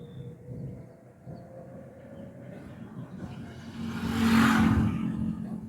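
A car pulls away after the clutch is let out slowly; a low engine drone under road noise rises to a louder swelling rush near the end.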